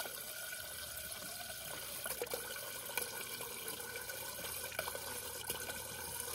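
Water running steadily from a Samsung refrigerator dispenser after a new water filter is installed, flushing through about a gallon; a continuous close splashing stream into a container with small drips, no talking.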